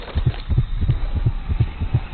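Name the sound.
beating heart sound effect from the Outsider in Dishonored video game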